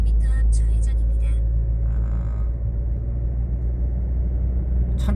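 A used 2014 Peugeot 308 SW diesel wagon drives along a road, with a steady low cabin rumble of engine and tires throughout, brief higher rattles at the start and end, and a voice talking over it early on.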